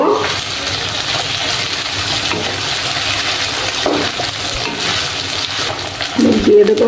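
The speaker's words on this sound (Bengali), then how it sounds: "এবার আমি আদা রসুনের পেস্টটা দিয়ে দিলাম। আদা রসুনের কাঁচা গন্ধ না যাওয়া অবধি একটু কষিয়ে নেব।" Ginger garlic paste fries in a pan for a Bengali fish-head dish, making a continuous, fairly close sizzle and hiss. A brief spoken phrase comes near the end.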